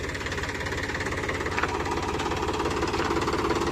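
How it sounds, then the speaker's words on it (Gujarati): A John Deere tractor engine runs at a steady idle with a rapid, even knocking chug, close and continuous, with no talk over it. "હાલો બીજું ટ્રેક્ટર ચાલુ કરી લીધું છે."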